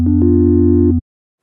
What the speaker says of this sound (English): a sine wave would really work in any genre of music